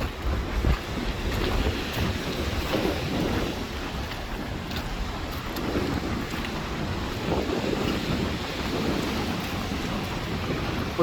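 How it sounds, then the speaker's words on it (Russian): Stormy winter sea with wind-driven waves breaking on the shore at Arkhipo-Osipovka, a dense, roaring wash of surf and gusting wind buffeting the microphone, loud and continuous without any voices. "Вот такое сегодня волнение морское."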